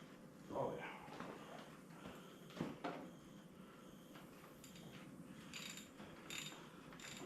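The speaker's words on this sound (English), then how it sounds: "I'm using this like a speed wrench." A wrench spun like a speed wrench to back out cylinder head fasteners on a Ford 8N tractor, giving a run of rapid ratcheting and metallic turning clicks close by, with faint voices in the background.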